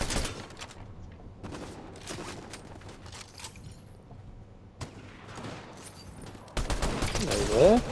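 Gunfire from the video game Fortnite crackles in scattered bursts of rapid shots against a quiet background, with a louder, denser volley near the end.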